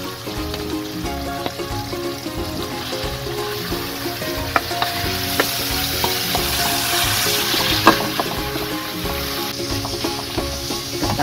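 Pork frying in a pan for a Filipino pork kaldereta, a dense, steady close sizzle with scattered spatters and occasional clinks of the utensil throughout, no voices.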